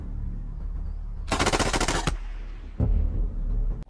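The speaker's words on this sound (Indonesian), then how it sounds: "Setelah itu ia pun langsung menembak bola tersebut." Rapid automatic gunfire from a commander shooting at a giant ball in a film scene, one loud burst of close shots lasting under a second, then a single sharp shot.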